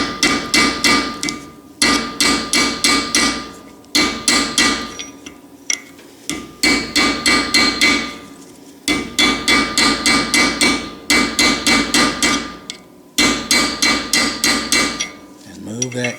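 A steel hammer strikes a chisel driven in as a wedge during repair of a Fairbanks Morse 3HP ZC engine: loud, close, rapid metallic blows in quick runs, with short pauses between bursts.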